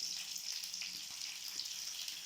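Hot oil sizzles in a pan while cooking molake hurlikalu sambar, a steady close-up hiss that keeps going for the whole stretch without any voices.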